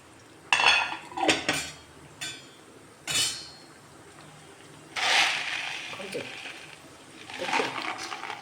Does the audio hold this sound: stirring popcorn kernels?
yes